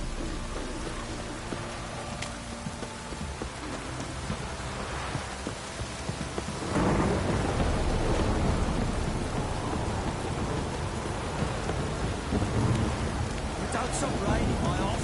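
Heavy downpour and rolling thunder in a PS4 video game, steady rain hiss that swells sharply louder midway with deep rumbles, a dense, continuous storm with faint voice underneath.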